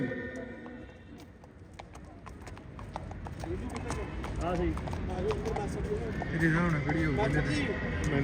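Hooves clip-clop on hard ground as two Nukra mares are led forward at a horse show, with a horse whinnying and people talking nearby over a crowd-like background.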